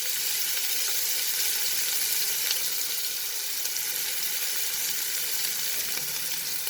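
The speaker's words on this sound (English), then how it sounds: "Just saute this for some time." Finely chopped onion sautéing in a pan for mixed vegetable dal, a steady, dense sizzle that holds at an even level throughout with no voices.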